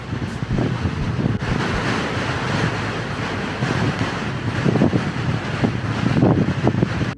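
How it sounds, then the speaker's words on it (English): Strong wind roars and buffets the microphone on Flattop Mountain in Alaska, near a small shelter. The gusts surge steadily throughout and are loud and close, with no voices. "if you could hear that, look at how windy it is."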